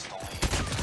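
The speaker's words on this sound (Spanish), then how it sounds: "Ya ven que la ráfaga es de tres." Short burst of gunfire from a three-round burst weapon in the mobile shooter Call of Duty Mobile, a quick clustered volley of shots that is loud and close.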